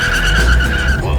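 A turbocharged car speeds loudly with a sustained high tire squeal over a roaring engine, steady and close for about a second before easing off.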